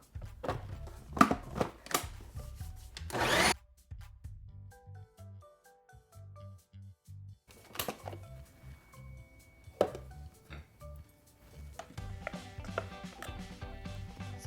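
A spatula scrapes grainy homemade peanut butter down the sides of a food processor bowl in a few short, rasping, scratchy bursts, with quieter clinks and thuds in between.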